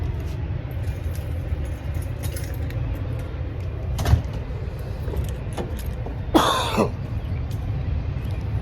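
Car keys jangle once in a short metallic rattle, heard close over the steady low rumble of a parked vehicle's surroundings.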